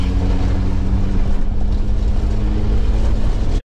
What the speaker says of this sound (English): It's a 3-liter basically diesel V6